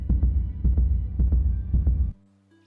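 A heavy heartbeat thumps steadily in the dungeon of the video game Fell & Sell, loud and close in a quick double-beat rhythm. It continues for about two seconds and then stops, leaving a low hum.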